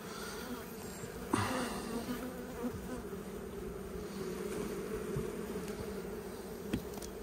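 Honey bees hum in a steady, dense buzz over an opened hive, the droning swarm close and continuous with a few brief clicks and knocks of hive handling.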